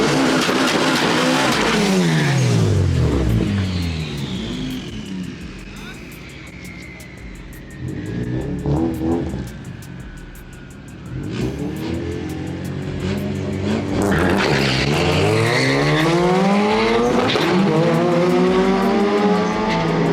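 A fully built hatchback launches hard with a loud, rising engine wail, wheelspin and screeching tires, pitch climbing through repeated sweeps as it pulls away, dipping mid-run before surging loudly again close by.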